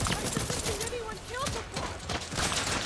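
First-person shooting in the video game Deathloop, with rapid repeated gunshots cracking through a busy, loud game mix and sharp bursts recurring across the short stretch.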